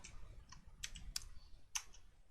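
Keys click on a computer keyboard during HTML and CSS coding, a few soft, irregular taps and one sharper burst, quiet and close with no voice.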